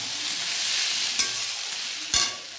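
Mixed vegetables fry in a hot pan with a dense, bright sizzle, broken by two sharp scraping stirs of the spoon near the end, close and loud.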